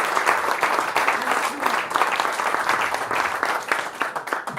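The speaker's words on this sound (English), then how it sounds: "Ryder Cup player, of course, big round of applause" Audience applause at a golf prize-giving Q&A for Ryder Cup player Stephen Gallacher: dense, steady clapping from a crowd indoors, sustained and fairly loud throughout.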